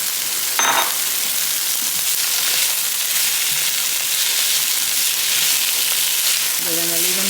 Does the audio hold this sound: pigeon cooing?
no